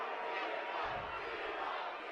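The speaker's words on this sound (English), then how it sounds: "the crowd is chanting tee him up" Crowd at a Region 9 high school basketball game, Dixie at Hurricane, chanting together in a dense, steady roar that swells slightly partway through and continues loudly throughout.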